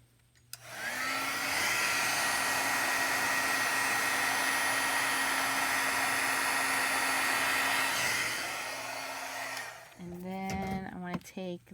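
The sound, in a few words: heat tool blowing hot air on a craft card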